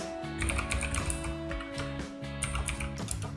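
Rapid, close keystrokes clatter on a computer keyboard as code is typed, a dense irregular run of clicks over a faint steady hum.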